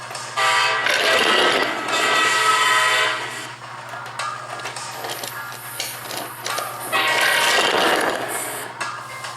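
Trains rumble and clatter past nearby, including a diesel, with two swelling surges of mechanical noise over a low steady hum and no voices.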